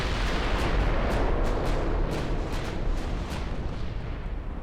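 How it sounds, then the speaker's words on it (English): A warship's gun turret blows apart in a naval battle in Ultimate Admiral Dreadnoughts, heard as a dense, sustained roar of explosive rumble with a run of sharp cracking bursts, loud and continuous throughout. "and then her turret blew off."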